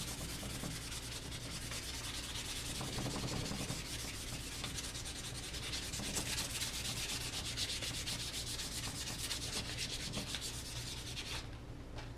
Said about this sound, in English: I'll light sand that with a 400.